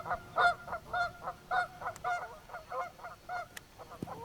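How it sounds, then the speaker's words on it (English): Geese honking outdoors by the Tennessee River, a rhythmic series of about a dozen nasal honks at moderate distance, steady and insistent, ending with a couple of small knocks. "Those geese are having a time out there. They will not shut up, will they?"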